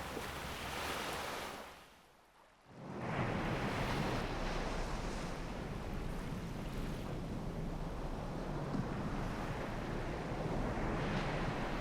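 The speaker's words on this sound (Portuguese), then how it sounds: "As ondas estão a cantar." Ocean waves roll and wash in a broad, steady surf roar, dipping briefly before swelling back to a continuous rush at moderate distance, with no voices.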